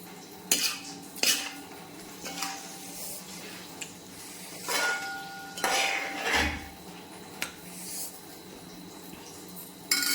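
A spoon stirring small-sardine pickle in sesame oil in a metal pot: intermittent scraping and clinking of metal against metal, close by, with sharper knocks spaced irregularly across the stirring.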